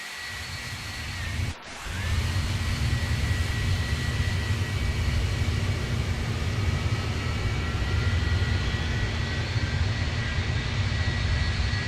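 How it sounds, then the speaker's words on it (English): A jet engine spooling up in the Roblox game Project Flight, a loud steady roar with a rising whine that starts after a brief dip and then holds evenly, with no talking. "And now we're going to start engine 2."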